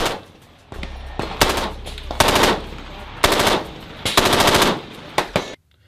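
Rifle fire from a direct impingement gun and a piston gun at a range: several sharp, loud shots and short bursts ring out in quick groups, each with a brief echoing tail, followed by silence at the end.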